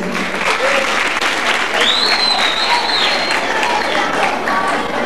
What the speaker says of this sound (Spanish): aplauso por la señorita Miss Pañales.